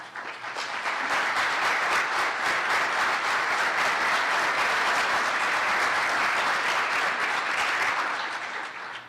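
Audience applause at an annual business and education forum, a dense, sustained wash of clapping from a large crowd that swells, holds steady and fades over about nine seconds.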